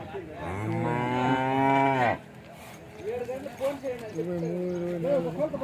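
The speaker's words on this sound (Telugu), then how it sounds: "అదే ఇవన్నీ దూడలన్నీ కొన్నారండి." Calves mooing at the Chintamani cattle market, a long loud harmonic low followed by shorter calls, with market noise around.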